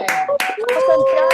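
Participants in an online video meeting clap in several sharp bursts, with voices talking over and between the claps.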